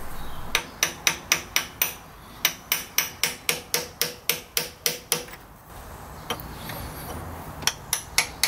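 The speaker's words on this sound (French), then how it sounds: "Je vais donc me servir du vieux joint spi pour pousser sur le nouveau et le rentrer sans l'abîmer." A new crankshaft oil seal is driven into an Audi 200 Quattro Turbo engine using the old seal as a pusher, with a rapid series of sharp metallic hammer taps followed by a pause and a few more strikes.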